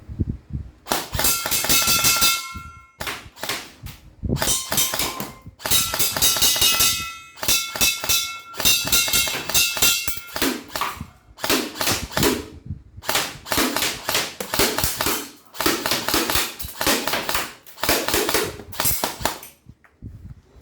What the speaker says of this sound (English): We are now ready to test fire your unit. So in semi-automatic.